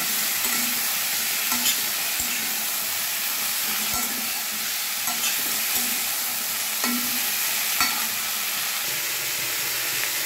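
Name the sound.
yardlong beans frying with cauliflower and potato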